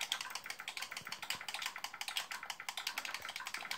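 Quick, steady keystrokes on a computer keyboard, a near run of light rhythmic clicks with no talking over them.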